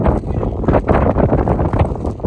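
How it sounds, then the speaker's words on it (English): Strong, steady desert wind roars across the microphone, buffeting and rumbling loudly throughout with no pauses, blowing sand. "It's really, really windy."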